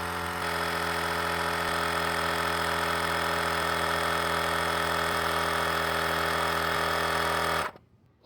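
A GOOLOO GT160 portable tire inflator runs loud and steady, its close, even mechanical drone holding for about seven and a half seconds before cutting off abruptly into near silence.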